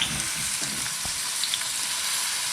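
A rack of lamb sears meat-side down in hot oil at a ranch kitchen, giving a steady, close sizzle and crackle with a few soft pops from the pan, no voices.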